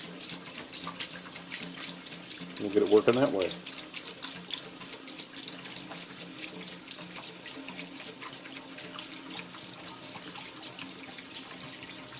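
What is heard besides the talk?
water poured from jugs into a parts washer tank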